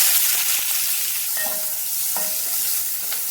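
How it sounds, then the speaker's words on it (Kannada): Onion hits hot oil in a pan and sizzles steadily, loud and close, with a few light stirring clinks and no talking. "ಇದಕ್ಕೆ ಆನಿಯನ್ ಆ್ಯಡ್ ಮಾಡ್ಕೊಳ್ಳೋಣ."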